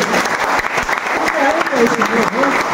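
Loud, sustained applause from a business-meeting audience in Gomia, Bokaro, Jharkhand, a dense continuous clatter of many hands with a few voices rising briefly within it.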